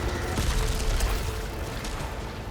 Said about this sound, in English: That was quite the explosion.